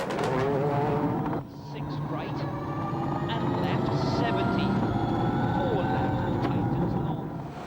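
A damaged Ford Focus WRC rally car races through a special stage at the 2001 Tour de Corse. Its engine drones with steady harmonic revs and a brief drop in pitch, under a commentator's voice throughout.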